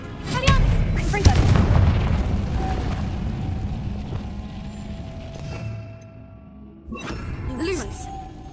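A Confringo fire-spell explosion in Hogwarts Legacy gives a loud booming burst near the start that fades into rumbling, followed by smaller impacts, with a person talking faintly underneath.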